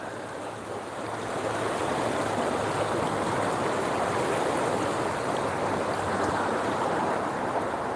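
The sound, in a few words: flowing water of the Westfield River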